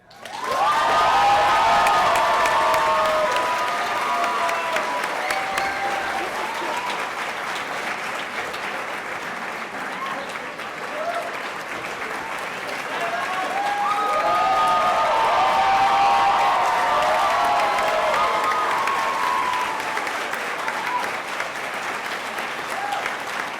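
A contest audience at an oratorical competition applauds and cheers the People's Choice winner, a long, loud wash of clapping with whoops and shouts that swells again near the end.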